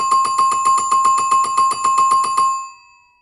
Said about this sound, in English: The old 60-year bell with tape around it so it's not too loud.